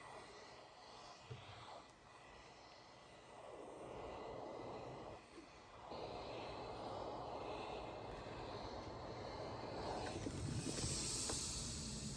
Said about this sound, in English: I'm using quite an intense amount of steam on this